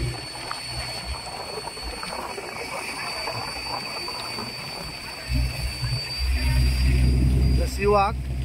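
Boat engine rumbling as a boat pulls away from the sea walk toward St. Mary's Island on the Udupi coast of Karnataka, a steady low drone over water and wind that swells louder near the end.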